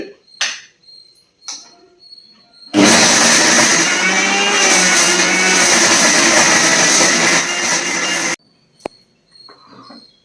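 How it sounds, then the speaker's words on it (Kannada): A kitchen mixer grinder whirs loud and steady for about six seconds while blending cucumber for a tambuli, starting abruptly and stopping sharply, with a few clicks and handling knocks before and after. "ಈಗಾಗಲೇನೆ ಮಿಕ್ಸಿಯಲ್ಲಿ ಹಾಕಿರುವಂತಹದ್ದು ನೋಡಿ ಈ ರೂಪಕ್ಕೆ ಬಂದಿದೆ"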